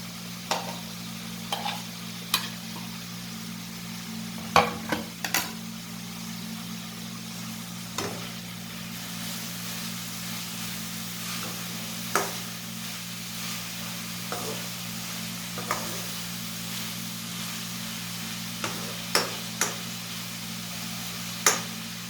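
Carrots stir-fried for Chinese-style pasta: a steady low sizzle in a hot pan, broken by scattered clinks and scrapes of a spatula stirring, with no talk over it.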